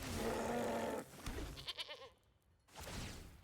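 Goats bleat in the MTG Arena card game, a loud burst of bleating followed by several shorter wavering cries and a final bleat after a brief gap.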